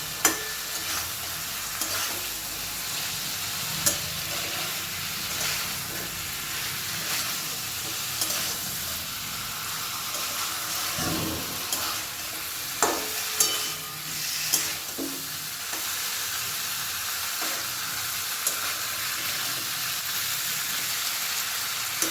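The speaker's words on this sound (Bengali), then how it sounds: "এখন আমি এর মধ্যে দিয়ে দেবো ভেজে রাখা আলু ও ভেজে রাখা মাছের মাথার টুকরো দিয়ে ভালো করে একটু সব কিছু মিশিয়ে নেবো একসাথে" Fried potatoes and pieces of rohu fish head are stirred together in a hot pan, giving a steady sizzle broken by scraping and clattering strokes of the spoon, close and fairly loud with no talking.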